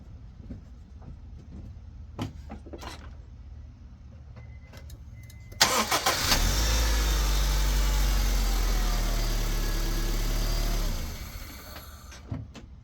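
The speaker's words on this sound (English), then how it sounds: "that engine purrs like a sewing machine" A 2001 Honda Civic engine cranks and catches, then settles into a loud, steady idle for several seconds before shutting off, with a few faint clicks beforehand.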